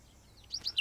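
A small cartoon bird gives a few quick, thin chirps near the end of a brief quiet moment, light and fairly faint.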